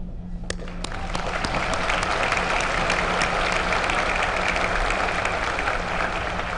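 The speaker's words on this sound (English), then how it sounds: "Please join me in applauding this student organization's outstanding accomplishment." Sustained applause fills a college commencement ceremony as the audience honors a student organization, dense clapping from a large crowd holding steady at full strength from start to finish.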